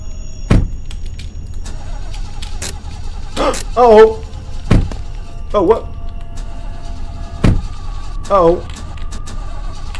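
A car in the video game Fears to Fathom passes with a low engine hum and brief mechanical whirs, while excited voices shout over it in short bursts.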